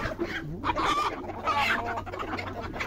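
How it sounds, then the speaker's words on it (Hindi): Chickens and roosters on a sheep and goat farm cluck and squawk loudly and close by, a busy run of overlapping bursts with no pause. "वो देखें एक मुर्गी है और 10 मुर्गे हैं"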